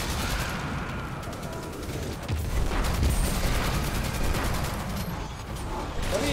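Rapid gunfire in Destiny 2 during a Harbinger fight, dense continuous bursts of shots rattling for several seconds at steady loudness, with no talk over it.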